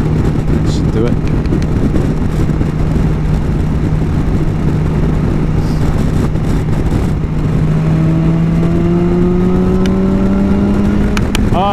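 A BMW S1000 XR motorcycle engine drones under heavy wind rush, rising steadily in pitch as it pulls up through the revs, heard from the rider's position.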